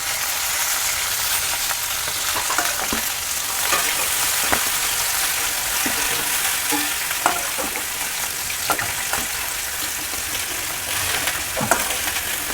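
Pieces of fish for Bengali doi katla fry in hot oil, giving a loud, steady crackling sizzle with occasional sharper pops and clinks, close up and with no talking.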